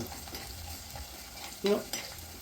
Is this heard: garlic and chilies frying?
yes